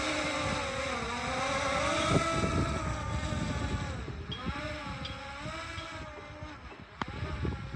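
An E88 Evo camera drone with brushless motors hovers outdoors in strong wind, giving a steady, loud, buzzing whine whose pitch wavers and dips slightly as it holds position, with a couple of brief clicks near the end.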